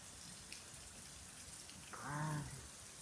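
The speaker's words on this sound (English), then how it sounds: "And it's raining." Rain falls during a summer evening storm in West Carrollton, Ohio, a faint, steady hiss heard from a distance, with a brief louder tonal sound rising near the end.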